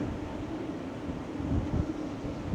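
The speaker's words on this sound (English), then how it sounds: "It's very windy, surprisingly." Wind gusts across the open upper deck of the Carnival Celebration cruise ship near a pool area, a steady low rushing buffet that swells briefly midway.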